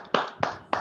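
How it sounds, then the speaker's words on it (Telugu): A few loud, sharp claps spaced about a quarter-second apart, close and clear with no talking, from an audience at a Telugu business meeting. "అందరికి కూడా ఒకసారి గ్రేట్ గా క్లాప్స్ ఇవ్వండి"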